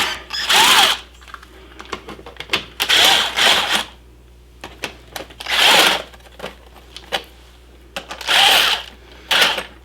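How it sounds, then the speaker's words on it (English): Screws driven into a fiberglass door panel with a power drill, heard as four loud bursts of whirring and grinding separated by short pauses, with fainter clicks and handling noise in between. "Now let's see if I can force the screws through the fiberglass."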